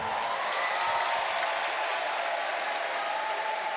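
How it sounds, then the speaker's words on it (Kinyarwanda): Congregation clapping together inside a church during a worship service, a steady, dense wash of applause filling the whole moment without pause. "komera Imana amashyi"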